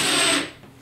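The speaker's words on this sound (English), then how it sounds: "I always like to pre-start my screws here." Power drill pre-starting screws into a wooden backing piece behind drywall while prepping walls for paint; a short, close whirring burst that winds down after about half a second, with no talk.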